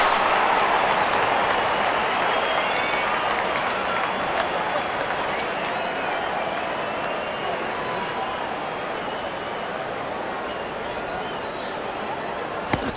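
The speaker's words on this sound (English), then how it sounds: "The crowd is enjoying every bit of this action." Cricket crowd at an England versus Bangladesh match, a steady broad roar of cheering and applause after a big hit, holding at an even, dense level throughout with commentary murmuring underneath.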